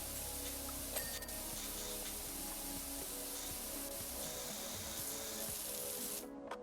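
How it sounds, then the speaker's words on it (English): Pressure washer spraying steadily in PowerWash Simulator, a continuous hissing jet with a wet squelching texture, close and loud, cutting off abruptly near the end. "What is that squelching noise? Because I'm spraying something"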